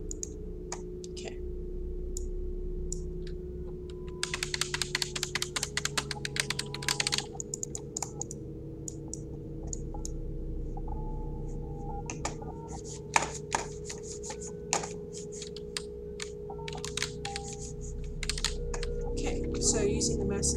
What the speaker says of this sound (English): So using the mouse and keyboard is useless.